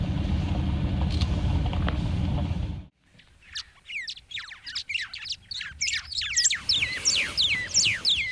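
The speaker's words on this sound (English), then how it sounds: "We've got some white-browed sparrow weavers calling in the tree off to our left." White-browed sparrow weavers call from a nearby tree along a rural birding road in winter, after a few seconds of vehicle rumble that cuts out. Bright, chattering chirps and squawks then follow in quick, repeated bursts.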